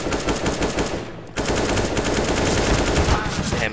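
Rapid automatic gunfire from a Counter-Strike: Global Offensive match, loud and near, with dense repeated shots and a short lull partway through before firing resumes, music or game noise underneath.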